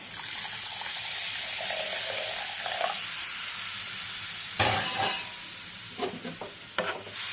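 Bitter gourd pickle masala stirred in a pan after tamarind water is added, a steady wet sizzle with louder scraping stirs and sloshing bursts toward the end.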